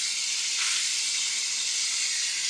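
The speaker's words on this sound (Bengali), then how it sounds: "এইভাবে আমি পুরো চিকেনটাকে এরকম করে ফ্রাই করে নেব।" Chicken pieces fry in hot oil for a Bengali-style chicken changezi, giving off a steady, loud, unbroken sizzling hiss with no talking.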